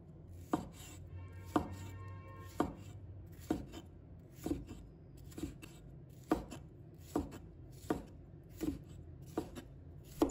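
A knife chops a tomato into small pieces on a cutting board, giving a steady series of sharp, close thuds about once per second, with no talking.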